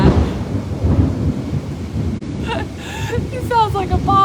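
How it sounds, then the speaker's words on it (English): Heavy thunder from a thunderstorm in Costa Rica rolls as a loud, deep rumble with rain and wind noise, continuing while someone talks over it. "It sounds like a bomb just went off over here. Oh, Costa Rica thunder."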